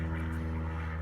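An airplane passing over a backyard, a steady droning hum with a strong low tone that stays even and continuous through the whole short stretch.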